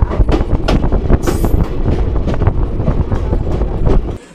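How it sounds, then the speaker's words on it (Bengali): The 12347 Sahid Express train from Howrah arriving at Ahmedpur Junction, with a steady loud rumble of rolling railcars, wheel noise and rattling throughout, and a brief high squeal near the middle before the sound drops off at the end. "আমাদের ট্রেন এই মুহূর্তে এসে পৌঁছেছে আহমেদপুর জংশনে"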